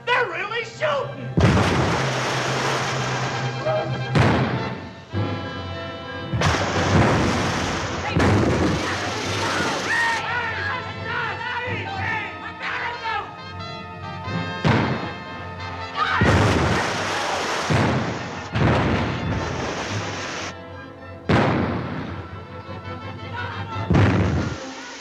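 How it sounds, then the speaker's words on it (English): Guns fire from a ship in a 1943 wartime comedy film, with repeated heavy booms and blasts over a loud orchestral score and shouting voices. "You hear them guns? Ah! Ah! Holy smoke! They're not saluting. They're really shooting."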